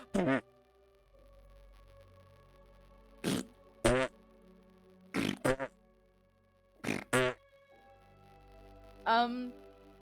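Several people imitate fart noises with their mouths, making short buzzing, sputtering bursts in scattered pairs over a faint steady background hum.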